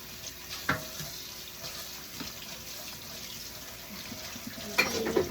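Tap water running into a sink during washing up, a continuous trickle broken by a few sharper splashes and clinks near the start and again at the end.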